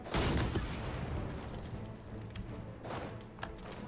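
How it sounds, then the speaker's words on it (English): Cannon fire from a Europa Universalis IV siege, a crackling volley of booms and rattling shots, strongest at the start and then scattered bursts, faint and alone. "Send forth the cannons."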